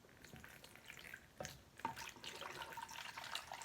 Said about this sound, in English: next I want you guys to take your water carefully, pour it